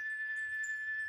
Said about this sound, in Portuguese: Pessoal, perdoa o barulho da cigarra